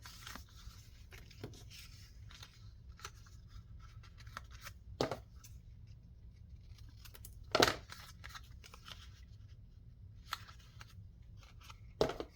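Scissors snip through paper in a few sharp, separate cuts spread across a quiet craft-table background, each one short and close by.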